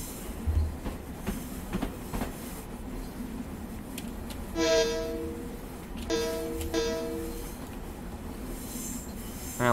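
A Long Island Rail Road train runs on the Oyster Bay Branch in Train Simulator Classic. It gives a continuous rolling rumble with rail clatter and two short horn blasts midway, and no one speaks.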